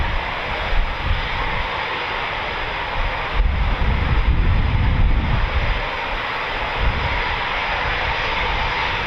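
Eurofighter Typhoon FGR4 fighter jet at RAF Coningsby, a loud sustained roar of jet engines with a deep rumble that swells midway, heard outdoors with wind buffeting the microphone and no talk.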